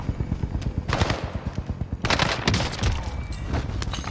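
A Marco 5 gun in Call of Duty on the Fortune's Keep map fires in fast, loud automatic bursts, the rapid rhythmic shots running almost continuously, with heavier cracks layered in partway through.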